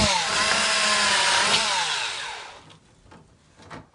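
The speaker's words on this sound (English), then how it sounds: "take my drill with my 1/4" drive and go all the way through" A power drill with a 1/4 inch drive whines steadily at high speed while boring through a front door, then winds down into a few short bursts and handling noises.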